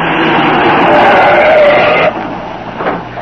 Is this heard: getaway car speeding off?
yes